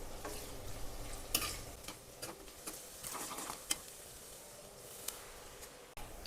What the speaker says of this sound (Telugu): కొంచెం బ్రౌన్ కలర్ వచ్చేదాకా వేయించాలన్నమాట.